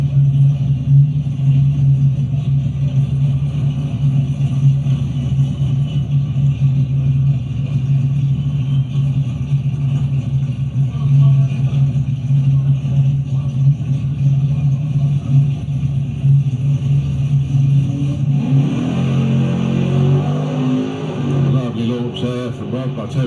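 Ford LX Mustangs drag racing at a Mopar event track, a steady loud engine rumble throughout with a rising rev and shift near the end.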